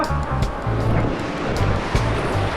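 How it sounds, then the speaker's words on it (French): Ocean waves wash and crash in a constant rushing roar, close by, with wind noise buffeting the microphone. "Fais gaffe aux vagues"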